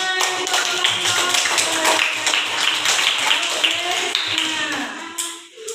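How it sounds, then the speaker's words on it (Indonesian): Students in a classroom clapping together in a steady rhythmic round of applause for a few seconds, the hand claps close and bright, tapering off at the end. "Ya, beri tepuk tangan."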